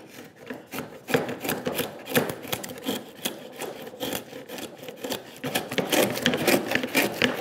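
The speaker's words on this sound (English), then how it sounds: "we can switch to the router." A hand router shaving wood on a workbench, a shallow cut along the edge made in repeated rasping, scraping strokes that rise and fall in loudness, close by and with no talk.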